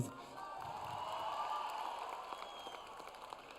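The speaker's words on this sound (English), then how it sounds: "Keep giving him an applause." A live audience applauds a volunteer at a talk, a soft, steady patter of clapping from a crowd, fairly distant and even, thinning slightly toward the end.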